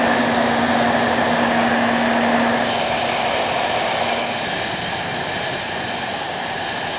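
A heat gun blows hot air onto UltraCote film covering on a model aeroplane, giving a loud, steady whooshing hiss with a constant motor drone that eases slightly in the second half.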